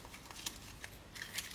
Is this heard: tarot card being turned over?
yes